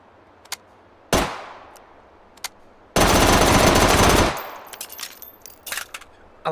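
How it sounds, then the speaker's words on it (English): A VZ-61 machine gun fired in the VR shooter H3VR: a few single clanks and shots, then a loud sustained automatic burst lasting about a second and a half, followed by scattered clicks and handling noises. "it took me long enough to get to some machine guns"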